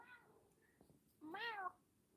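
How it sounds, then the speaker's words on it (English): A house cat gives a faint, short meow early, then a clearer, louder rising-falling meow about a second later, close by in a quiet room with no talking. "My cat likes to talk to me."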